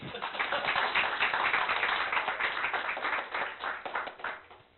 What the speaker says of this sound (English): you can have a big round of applause for yourself